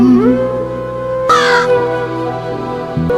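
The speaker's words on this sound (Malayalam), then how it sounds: "കാക്ക" A single harsh crow caw bursts out midway through sustained, sliding musical tones, loud and close, then the tones carry on alone.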